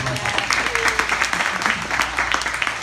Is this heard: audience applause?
yes